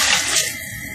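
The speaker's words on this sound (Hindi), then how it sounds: "साथ ही इसमें हम पानी शामिल करेंगे" Water rushes and splashes steadily into a cooking pot for beef karahi, a close, continuous pouring sound that softens slightly toward the end.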